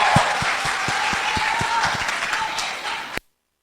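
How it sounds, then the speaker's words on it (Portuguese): Church congregation applauding, a full room of clapping with distinct sharp claps standing out and some voices mixed in, cutting off abruptly. "Um aplauso a Jesus."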